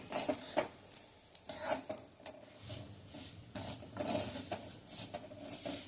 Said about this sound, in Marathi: आपण ही भगर व्यवस्थित भाजून घ्यायची